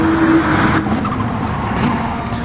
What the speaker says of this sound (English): Engine screaming.